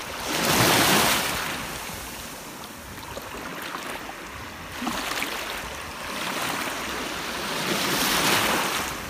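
Ocean waves wash in steadily with broad surging rushes, two or three swells rising and falling, close by with some wind over the microphone.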